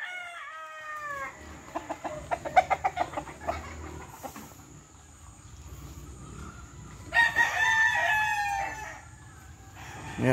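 At a farm chicken coop, a rooster crows loudly nearby, once at the start and again later, with a run of clucking chickens in between and faint background noise.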